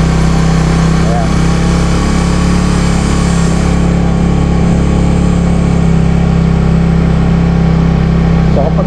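Manual motorcycle riding down a steep road on light throttle, its engine holding a steady, close low drone with a constant rumble for the whole stretch.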